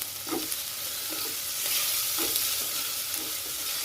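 Green chillies frying in a pan over a low flame, a steady soft sizzle with a few light stirring scrapes, close and continuous with no talking.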